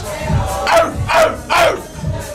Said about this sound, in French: Ça jappe!